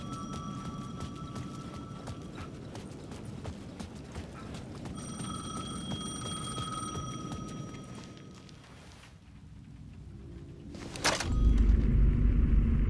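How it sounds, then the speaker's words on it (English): A payphone rings repeatedly in the video game Alan Wake 2, its bell sounding in regular bursts over eerie ambient rumble, and a heavy low thud comes near the end. "The payphone was ringing again."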